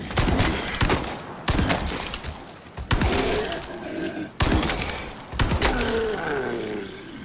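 A CQBR assault rifle fires in Resident Evil 4 Remake at a Brute, heard as several sharp, rapid bursts of gunfire separated by short pauses, loud and close.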